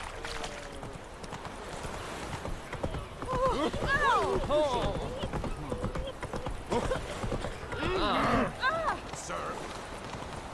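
Roach the horse galloping in a video game, rapid rhythmic hoofbeats with whinnies and snorts, alongside someone talking over the hooves.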